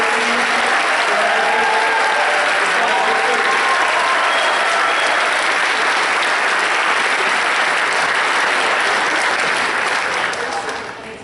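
Graduation guests at the 2017 Project SEARCH Cincinnati ceremony give sustained applause, a dense crowd clapping at a steady level for about ten seconds before tapering off at the end.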